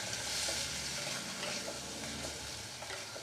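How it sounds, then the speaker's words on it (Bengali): About half a cup of water goes into a pan of egg masala curry, setting off a broad, steady sizzle and bubbling hiss that fills the whole moment, close and loud with no voices. "হাফ কাপ মতন জল দিলাম।"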